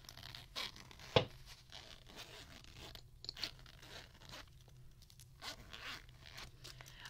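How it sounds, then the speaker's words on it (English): A bag's zipper is pulled open in a quiet room, several short rasping runs scattered across the moment, close and soft, with light crinkling handling noise between them. "I realized I really like the sound of zippers."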